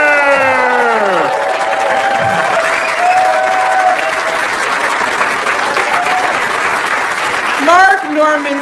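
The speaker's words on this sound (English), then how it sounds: "Put your hands together for Amy" Stand-up comedy audience applauding and cheering as Amy Schumer is introduced, loud dense clapping and whoops filling the room, with a brief swooping tonal sound at the start and end over the applause.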